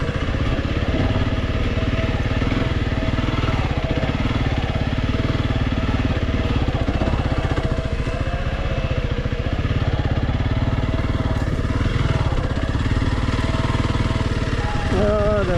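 A Honda CRF300L Rally motorcycle rides a narrow single-track trail, its engine a steady, close, continuous drone with shifting throttle and rattling clatter throughout.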